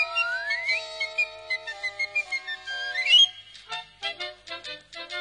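Cartoon characters, Mickey among them, whistle a bright, cheerful melody while cleaning house, with sliding notes giving way to short rhythmic whistled phrases, clear and alone.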